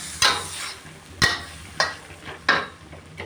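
Sliced pork with tomato and long red chilies is stir-fried in a pan: four or five distinct scraping strokes of a spatula ring out at a steady pace over a faint, low sizzle.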